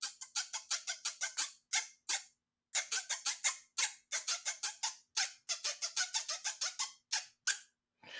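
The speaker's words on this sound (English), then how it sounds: "chopstick across the comb, I have a percussion instrument that you could scrape" Rapid ratcheting scrapes in quick bursts, a chopstick raked across comb teeth, with short pauses between runs and a change in pitch partway through.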